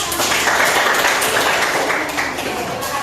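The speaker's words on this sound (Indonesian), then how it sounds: "tepuk tangan untuk kelompok bekas" Applause for a student group in a vocational health school classroom, a steady wash of clapping from the class held at an even level for about three seconds.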